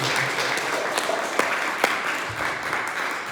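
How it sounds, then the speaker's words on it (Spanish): A church congregation applauds loudly and continuously, a dense wash of many clapping hands with a few sharper claps standing out. "Si es para Cristo el aplauso, déselo fuerte. Fuerte el aplauso al Señor."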